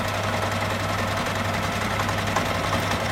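Sewing machine running steadily while stitching a quarter-inch seam along fabric for a crossbody shoulder bag, a continuous close mechanical hum with a faint rhythmic whir throughout and no talking.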